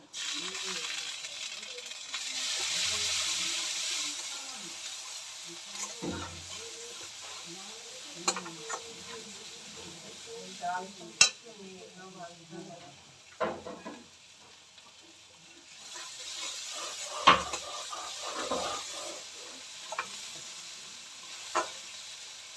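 A ground paste of cumin, ginger, dried chili and garlic fries in a pan for a fish curry, a soft sizzle broken by occasional clinks and scrapes of stirring, fairly quiet.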